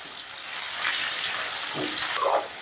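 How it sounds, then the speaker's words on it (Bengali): Paneer pieces fry lightly in a pan over a medium gas flame, giving a steady close sizzling hiss that swells slightly toward the end, with no voices. "গ্যাসের আঁচটা মিডিয়ামে রেখে এবারে পনিরগুলোকে হালকা করে ভেজে নেব"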